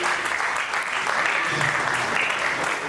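An audience at a marketing association product presentation claps in a dense, sustained burst of applause, fairly close and loud throughout, with no speech over it.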